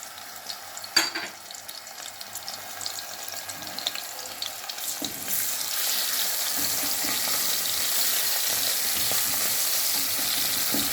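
Frozen minced garlic spooned into hot fat for molokhia, starting with a few clinks and rustles before a steady frying hiss swells and holds for the rest of the time.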